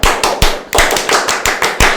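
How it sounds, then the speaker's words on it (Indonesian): Indonesian scout clap performed as rhythmic group clapping, with sharp, loud claps falling in a steady patterned beat and short gaps between the bursts, with no talking. "Tepuk pramuka."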